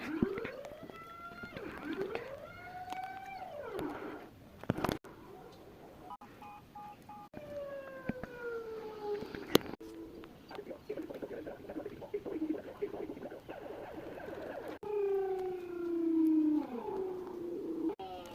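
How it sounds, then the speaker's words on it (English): Military air raid siren wailing, rising and falling in long sweeping tones over a busy background, sounding repeatedly across the stretch at moderate distance. "Oh, the siren's going off."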